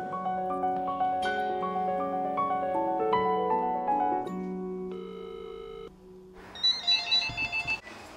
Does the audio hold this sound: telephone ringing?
yes